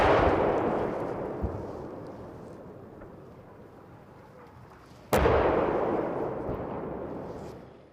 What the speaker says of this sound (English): we heard the same terrifying sounds of artillery.